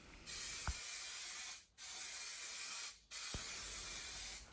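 An aerosol can sprays paint onto a car bumper near the diesel filler in three long, steady hissing bursts separated by brief pauses, loud and close with no voices.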